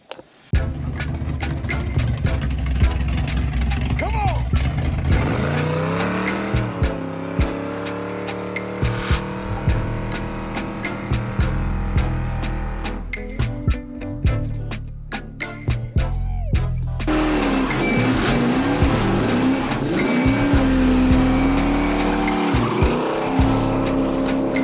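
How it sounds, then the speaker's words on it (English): Car with a new Mopar A727 automatic transmission revving hard through a burnout, engine roaring and rising in pitch while tires squeal and chirp loudly and continuously, with a brief lull before the engine surges again. "So we'll see if we can get a burnout."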